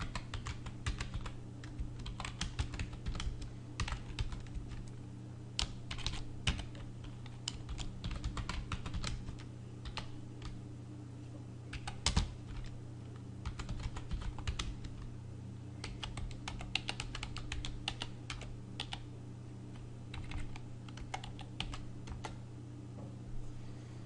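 Fingers type a netsh command on a computer keyboard in a steady patter of close, crisp keystrokes with brief pauses, over a constant low electrical hum and no speech.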